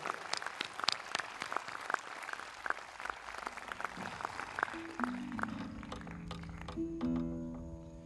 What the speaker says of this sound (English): Let's have one more round of applause for all the performers today.